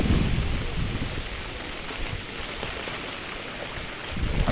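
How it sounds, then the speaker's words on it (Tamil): Heavy cyclone rain roars steadily during Cyclone Fengal in Achuveli, a dense rushing wash with low rumbling beneath it and no voices. "இப்போ சரியான மழை அடிச்சு கொண்டிருக்கு."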